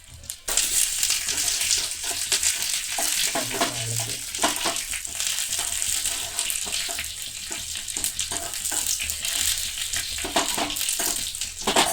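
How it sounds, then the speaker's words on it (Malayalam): Mustard seeds tempering and sizzling in hot oil for sambar, a continuous dense crackle and hiss that holds steady for the whole stretch, with scattered sharper pops. "ഇത് കടുക് താളിച്ച് ചേർത്താലേ അതിനൊരു ഭംഗി ഉണ്ടാവും"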